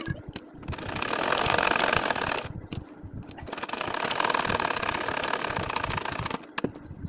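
A sewing machine stitches a nakshi kantha quilt, running in loud close bursts of rapid needle chatter separated by brief pauses.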